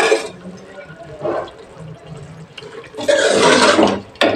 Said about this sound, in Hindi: इसमें मैं घी भी डालूंगी।